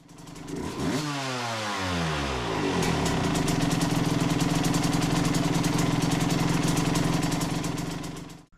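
A Suzuki RM125 two-stroke motorcycle engine, running after its carburetor was reassembled with new jets, kicks over and fires up, revving briefly before settling into a loud, close, buzzing idle that runs continuously.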